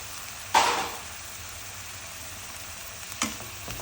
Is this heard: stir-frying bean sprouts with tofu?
yes